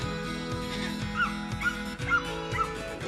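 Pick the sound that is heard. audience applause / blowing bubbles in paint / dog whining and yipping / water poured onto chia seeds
dog whining and yipping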